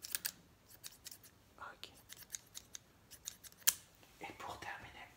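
Sharp, close scissor snips in an ASMR haircut roleplay, a rapid series of crisp cuts with a louder snap near the end, while a soft voice murmurs briefly.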